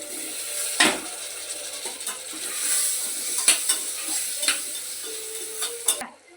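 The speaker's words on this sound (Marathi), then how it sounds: "आपण आता टाकूया फ्लावर आणि बटाटा." Cauliflower and potato pieces sizzle in a hot pan of fried spices while a spoon scrapes and stirs them, steady frying hiss broken by repeated knocks and scraping strokes.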